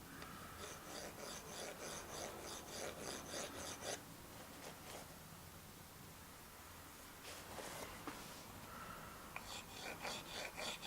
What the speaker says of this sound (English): he's going to successfully attempt to file the nub off of the piston